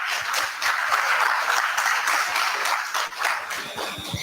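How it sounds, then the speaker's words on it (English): Audience applause at an International Women's Day celebration event, a steady dense wash of clapping from a crowd, sustained and fairly even for several seconds. "So one round of applause for that"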